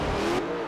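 A Bugatti Veyron in the Forza Horizon 5 racing game drones at steady high revs, a brief continuous engine tone with no talking.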